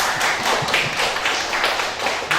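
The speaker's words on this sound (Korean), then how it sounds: "우리 각자의 그 조장님들한테 박수 한 번만 쳐보죠." Classroom participants at a coding bootcamp project presentation applaud their team leaders, a dense, continuous patter of many hands clapping close by with no voices over it.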